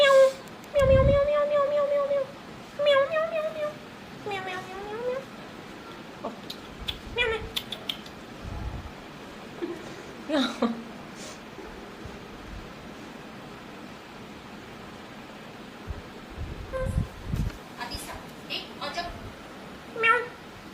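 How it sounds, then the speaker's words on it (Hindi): A cat meows several times indoors, with clear rising and falling cries near the start and more scattered meows later, set against a quiet background with occasional talking. "अब ये बिल्ली आ गई थी, बहुत ही प्यारी, बहुत ही अच्छी बिल्ली है ये।"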